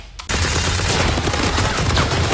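A sudden burst of rapid gunfire erupts after a brief quiet moment and continues densely, loud and close, like sustained automatic fire.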